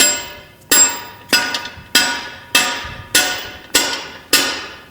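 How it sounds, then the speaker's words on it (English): An old 4R100 transmission input shaft, used as a hammer, strikes a metal bushing driver during a 350 transmission drum assembly: about eight loud, evenly spaced metallic taps, each ringing out and decaying before the next, close and alone. "I have this old input shaft off a 4R100, and I use this as a hammer."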